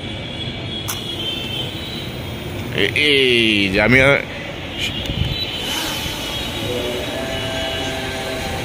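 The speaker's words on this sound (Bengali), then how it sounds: "এই যে ড্রোনটা ফ্লাই করতেছে" A drone flying outdoors gives a steady, close whirring drone that runs through the whole stretch, while someone speaks over it.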